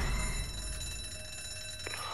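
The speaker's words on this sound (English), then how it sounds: "Shit, it was ringing the alarm." Alarm in the video game ZOMBI rings continuously as a sustained, shrill electric bell with a steady metallic tone, fairly loud and alone for the whole stretch.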